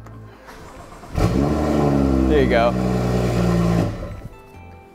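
BMW car engine on race gas revving up, then settling into an uneven, rough idle up close, with a person speaking briefly over it.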